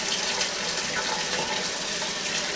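Lukewarm water runs steadily from a tap into bowls set out for washing raw alpaca fiber, a close, even hiss and splash that holds without a break.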